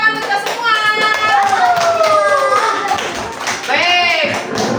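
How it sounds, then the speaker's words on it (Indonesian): Primary schoolchildren clap together in a classroom, a steady burst of hand claps close by while a voice and other young voices sing and chatter over it. "Tepuk tangan kita semua."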